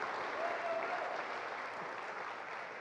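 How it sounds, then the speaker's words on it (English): Audience applause at an entrepreneurs demo day event, a steady dense wash of clapping that holds evenly for the whole stretch, moderately loud and without any talk over it. "let's give everybody a round of applause"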